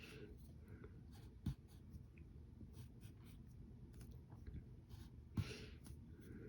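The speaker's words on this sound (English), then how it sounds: "And then we'll draw his thumb right there as well." A pen drawing a cartoon of the DC superhero Cyborg on paper, faint steady scratching strokes with a couple of sharper taps, quiet and close, with no talking.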